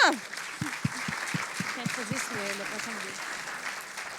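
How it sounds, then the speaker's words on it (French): Church audience applauds the contestants at a pastors' five-year service celebration, a broad wash of clapping sustained throughout with a voice speaking over the start. "Applaudissements pour les contestants."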